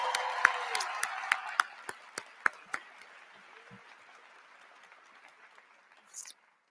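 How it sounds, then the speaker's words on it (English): At Atlanta's State of the City address, an audience applauds medal-winning senior Olympians: sharp individual claps ring out loud at first, then thin out and fade away over several seconds, ending with a brief faint rustle. "Give them a round of applause."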